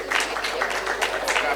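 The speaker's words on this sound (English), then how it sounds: "Can we have a round of applause for Megha, please?" Audience at a real estate panel discussion clapping in a hall, dense scattered handclaps filling the short stretch with steady moderate loudness and some crowd murmur.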